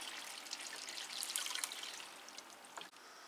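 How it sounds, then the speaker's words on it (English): Water pours and trickles onto a potted Cattleya orchid during a generous watering, a faint, close splashing hiss lasting a few seconds with a few small drips near the end. "Give it a darn good watering."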